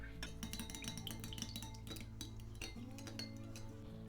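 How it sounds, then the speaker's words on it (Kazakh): Melted butter is stirred into a mixture in a bowl, with quiet repeated clinks and scrapes of a utensil against the dish in a steady, close rhythm. "Оның үстіне ертілген сары майды қосамыз. Барлығын жақсылап осылай қозғаймыз."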